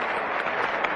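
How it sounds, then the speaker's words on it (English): A Test cricket crowd at Australia versus West Indies applauds as batsmen walk out, a brief, even wash of distant clapping heard through a radio broadcast with no speech over it. "As we hear the applause now"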